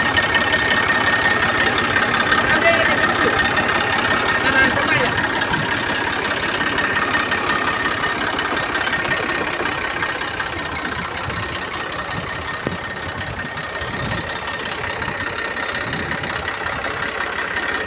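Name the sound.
tractor engine running pesticide sprayer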